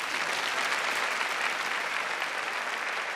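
A crowd at a Czech beauty pageant show claps in dense, sustained applause that holds at an even level throughout.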